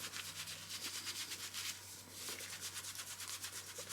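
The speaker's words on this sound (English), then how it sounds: "I just use the sponges to clean out the other sponge." Soapy makeup sponge scrubbed against another sponge, a steady, close rubbing and squishing in quick repeated strokes with a brief pause midway.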